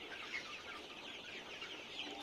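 Forty-day-old Sonali super hybrid chickens cluck continuously on a poultry farm, a soft, busy chorus of overlapping calls with no talking.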